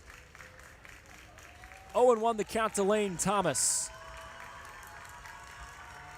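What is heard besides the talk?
baseball crowd cheering at AutoZone Park, Memphis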